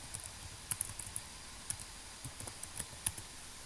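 Sparse keystrokes tapped on a computer keyboard, a handful of light, faint clicks in an uneven rhythm against quiet room noise, no talking.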